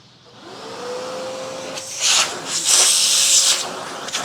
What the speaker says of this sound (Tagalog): Vacuum blower din ang in-order sa atin. Testingin natin to.